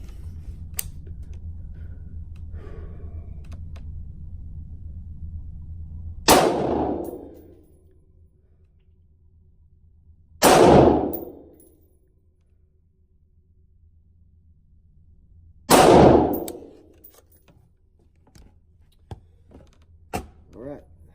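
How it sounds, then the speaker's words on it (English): Three loud, sharp rifle shots spaced a few seconds apart while zeroing a Vortex StrikeFire II red dot sight at an outdoor range, each followed by a brief decaying echo over a low steady background hum. "So make a few more quick adjustments and we'll fire 3 more rounds."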